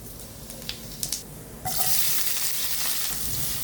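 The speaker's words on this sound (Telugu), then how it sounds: "ఉల్లిపాయలు వేగుతున్నాయి." Onions frying in a pan for chicken curry: a few soft clinks and stirring sounds, then a loud, steady sizzle that rises abruptly and carries on close by.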